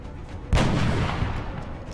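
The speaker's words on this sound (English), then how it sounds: "let's use our sniper to support us a little bit here" A single heavy sniper rifle shot in the XCOM video game, a sudden loud boom followed by a long rumbling tail, with quieter game ambience before it.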